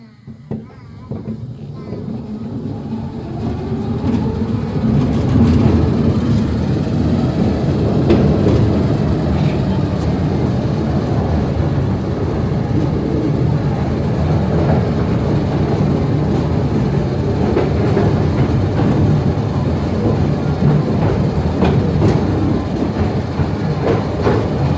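Mail Rail miniature train ride at the Postal Museum in London, a narrow underground railway whose loud, sustained rumble and rattling wheel noise builds after a quiet start and then runs on steadily, with faint voices in the background.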